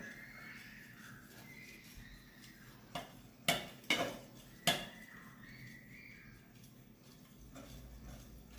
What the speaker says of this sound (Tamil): இப்போ நல்லா மிக்ஸ் பண்ணியாச்சு.